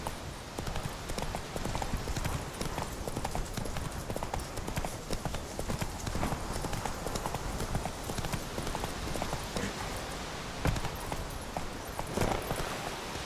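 Geralt's horse Roach trots along in The Witcher 3, hooves clip-clopping in a steady, close rhythm over the game's ambient background, with a faint voice now and then.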